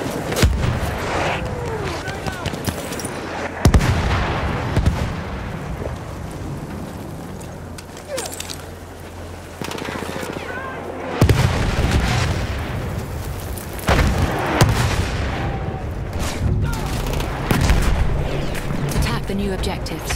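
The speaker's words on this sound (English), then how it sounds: "Wait for the enemy artillery barrage to stop firing." Enemy artillery barrage in Battlefield 1 on the Sinai desert map, heavy booming blasts and rumbling impacts repeating irregularly, loud and close, with voices and gunfire mixed in.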